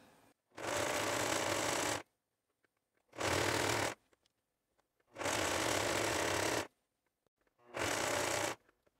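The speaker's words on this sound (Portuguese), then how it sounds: "você vai fazer um pesponto em ponto reto aqui com a peça desse jeito" A sewing machine topstitching a straight stitch along the turned edge of a fabric garment, running in four loud, steady bursts of a second or two each, separated by short pauses.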